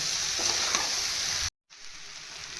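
Spiced ghugni masala with potatoes being stirred in a hot pan, with a loud, steady sizzle and faint scraping that cuts out abruptly partway, then resumes more quietly.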